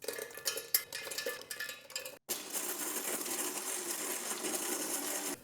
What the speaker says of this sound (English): Next, coarsely grind your roasted nuts and makhana.